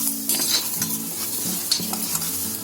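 Onion, dry coconut and chili roast in a pan, with steady close sizzling and stirring scrapes throughout and no voices.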